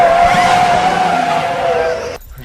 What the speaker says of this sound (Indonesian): Namun di tengah perjalanan, mobil mereka tiba-tiba menabrak seseorang.